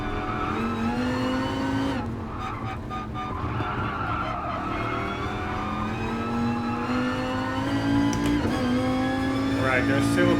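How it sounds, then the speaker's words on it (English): A low-revving car engine in Gran Turismo Sport drones steadily and loudly, the pitch dipping and climbing with gear changes amid tire noise, while a voice talks over it. "this is a low revving engine"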